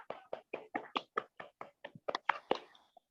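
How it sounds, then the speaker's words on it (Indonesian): A class claps in a patterned rhythm, about a dozen sharp, quick hand claps in steady beats that quicken toward the end, moderately close and fairly quiet, with no talk. "Tepuk tangan untuk kita semua."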